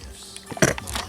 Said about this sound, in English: Now I'm sneezing